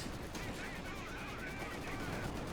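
A landmine detonates amid tank combat in Company of Heroes 2, a dense, continuous roar of battle noise with gunfire-like crackle throughout, steady and loud.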